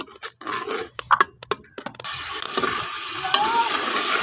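Ground coriander, salt and spices are stirred into potatoes, peas, carrots, fenugreek and tomatoes in a pan: a few scraping strokes of the spoon, then a loud, steady, close sizzle of frying.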